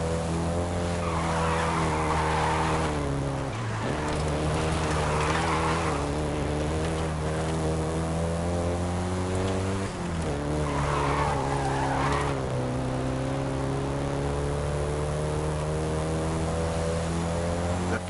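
A Volkswagen Golf GTI in the racing game Forza Horizon 5 drives with a steady engine drone and repeated tire-squealing skids, the engine pitch dipping and climbing between bursts of sliding.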